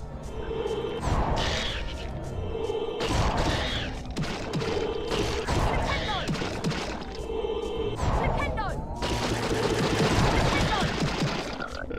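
Rapid bursts of machine gun fire in the Harry Potter and the Chamber of Secrets video game, repeated clattering volleys broken by short pauses, loud and close, with some game sounds mixed in.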